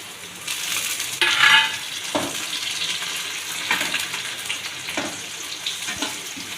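Onions and ginger garlic paste frying in a pan, a soft continuous sizzle broken by several scraping stirs and clinks of a spoon on metal, close up and moderately loud.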